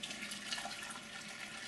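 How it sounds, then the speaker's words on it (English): Water poured over mussel bait to scald it, a steady close rushing splash with a hissing, tap-like wash lasting the whole moment, no talking. "scald with some water."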